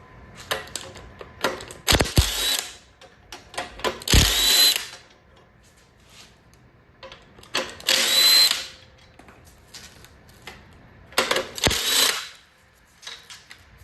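A power tool whirring off the throttle body bolts of a Ford 5.0 GT40P engine in repeated bursts of several seconds each, with ratcheting clicks and quiet gaps between, loud and close.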